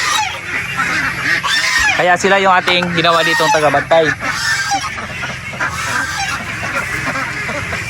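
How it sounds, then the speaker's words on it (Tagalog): Geese honk loudly and repeatedly close by on a farm, a noisy cluster of calls, while someone speaks over them. "itong gansa, once na may nakitang tao, may makitang ibang hayop, maingay"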